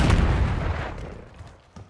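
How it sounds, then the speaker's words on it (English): A Semtex grenade explodes in Call of Duty: Black Ops 6 multiplayer, a loud close blast that fades out over about two seconds, followed by a small late thump. "Tossing Semtex grenade."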